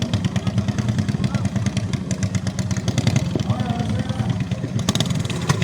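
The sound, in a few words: motorcycle engine starting and misfiring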